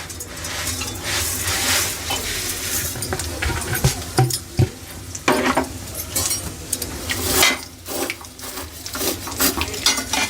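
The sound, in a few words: frying vermicelli in ghee in a pan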